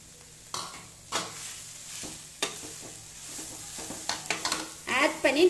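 Mashed potato being stirred into poori masala in a pan, soft scraping strokes over a low sizzle, a few sharper spoon knocks, ending with louder mixing toward the end.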